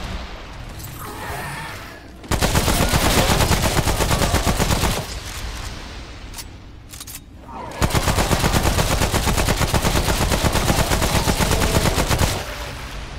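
Rapid automatic gunfire from the video game Remnant: From the Ashes comes in two long, loud, sustained bursts separated by a short, quieter lull.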